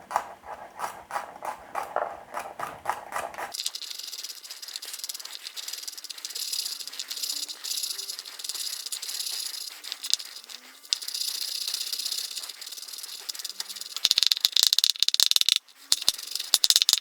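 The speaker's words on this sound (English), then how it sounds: "I'm just going to finely chop these cloves of garlic really fine as possible" A knife finely chopping garlic cloves on a board, with a quick run of rapid, close tapping strokes for the first few seconds before it gives way to a steady hiss.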